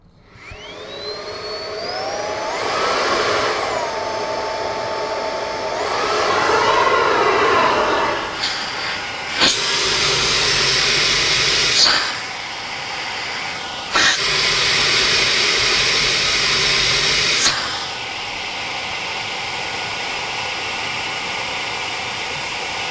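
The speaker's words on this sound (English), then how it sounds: "we're going to test its working vacuum" A Roidmi F8 X20 cordless stick vacuum fitted with an adapter runs on high, a loud steady whine and hiss with rising pitch at start-up, shifting in tone as airflow is blocked and released several times.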